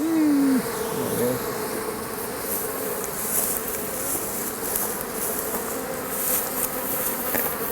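Honey bees swarm around an open beehive during a hive inspection, a dense, loud, continuous buzzing close by that holds steady throughout and grows agitated.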